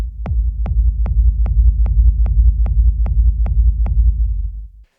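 Nine evenly spaced kick drum hits ride on a deep, sustained reverb rumble from the Perfect Room 2 plugin, the low boom swelling between beats before cutting off at the end.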